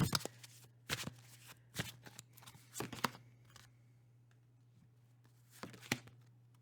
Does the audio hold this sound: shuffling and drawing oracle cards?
yes